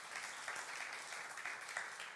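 A church congregation applauding during a sermon at a youth service, steady, distant and faint, a continuous wash of clapping throughout.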